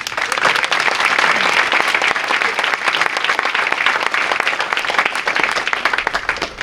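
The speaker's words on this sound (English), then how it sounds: "Let's give a big round of applause" An audience claps at a semi-pro baseball Hall of Fame induction ceremony, with dense, sustained applause from a crowd that stays loud throughout.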